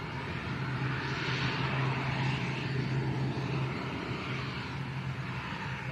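A Binter airliner bound for Tenerife North at Lanzarote Arrecife Airport, a steady broadband engine roar with a low propeller drone, moderately loud and unbroken throughout.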